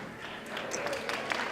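An audience at a high school Blue Ribbon Award ceremony claps for the vice president, Busy Mers: a short burst of steady crowd applause that swells slightly toward the end, with a voice mixed in.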